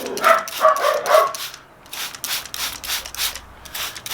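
Dogs bark indoors during a hydroponic chilli-seed germination demonstration, a quick cluster of loud close barks at the start followed by fainter rustling and scraping.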